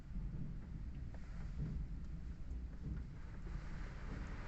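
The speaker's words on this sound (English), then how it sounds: "Oh, okay, it's raining again." Rain falls on a car, heard from inside as a faint, steady, low patter and rumble without voices.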